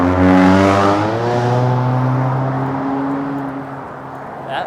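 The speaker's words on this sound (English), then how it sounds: "car with a loud muffler that was." A car with a loud muffler roars past nearby, its deep rumbling engine drone sliding lower in pitch as it moves away.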